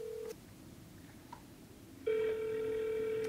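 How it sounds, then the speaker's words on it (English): Telephone ringing tone on a call placed on Christmas, a short steady tone, a pause, then a louder, harsher tone that holds on with buzzy overtones, heard alone without talk. "see, that's not a clean ring."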